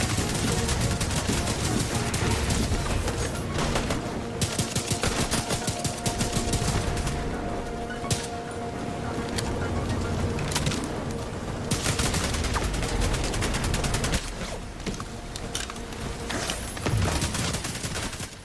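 Urban MDR rifle fire in The Division 2 rattles off in dense, rapid automatic bursts almost continuously, with brief pauses between volleys and game sounds layered underneath.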